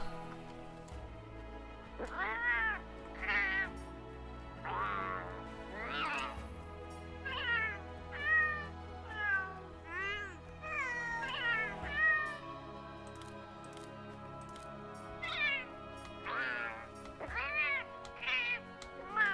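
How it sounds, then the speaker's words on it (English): A domestic cat meows repeatedly inside the Monster Hunter: World video game, a series of distinct mid-pitched calls in irregular bursts over low game ambience and music. "It is just a straight up fucking cat."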